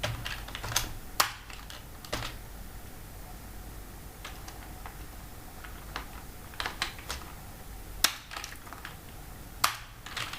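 Keys on a computer keyboard clatter as C++ code is typed, in quiet, irregular bursts of clicks separated by short pauses.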